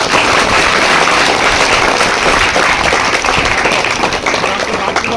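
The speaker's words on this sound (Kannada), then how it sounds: "ನಾವೆಲ್ಲ ಮತ್ತೊಮ್ಮೆ ಸಾಹೇಬರಿಗೆ ಚಪ್ಪಾಳೆ ಹೊಡೆದ ಮುಖಾಂತರ" An audience at a government pre-university college event in KR Sagar, Srirangapatna, Mandya, claps together in a loud, dense, continuous burst of applause that holds steady for several seconds.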